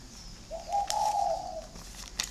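A single spotted dove coos once, a soft low call held for about a second at close range, with faint outdoor background and no talking.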